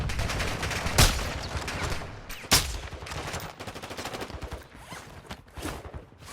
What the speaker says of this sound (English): As you can see, we keep getting shot at.